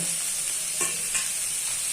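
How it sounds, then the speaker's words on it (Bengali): Ridge gourd and potato pieces fry in a pan with a constant close sizzle and two brief stirring scrapes partway through. "ঝিঙে আলু ভাজা হয়ে গেছে"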